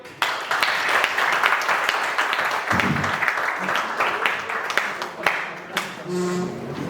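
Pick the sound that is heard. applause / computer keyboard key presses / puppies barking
applause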